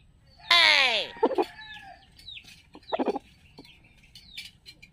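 Chickens cluck and squawk outdoors. One loud, close squawk comes first, then scattered shorter clucks and calls, with faint background activity.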